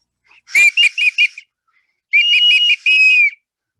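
A bright clay whistle imitating pre-Hispanic sounds plays in two bursts: a quick run of short chirping notes, then longer warbling tones with a brief break.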